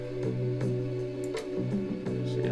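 A chopped, higher-pitched cut of an old Italian horror movie music sample loops briefly, with a steady low tone, sustained mid notes and short bright percussive hits, moderately loud with no voices.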